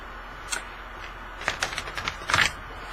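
Tarot of Transformation cards are handled in a brief shuffle: a few crisp clicks and snaps, then a short rapid flurry of card flicks near the end, close up and fairly quiet.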